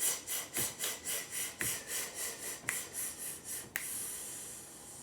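During a singing warm-up, a person takes a rapid series of about a dozen forceful, rhythmic breaths close to the mic, each one a short airy rasp. One final longer exhale follows.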